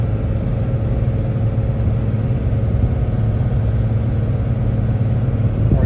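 A diesel truck fitted with a K27 turbo tows under load in third gear, its engine droning as a steady low rumble close by, with no talk.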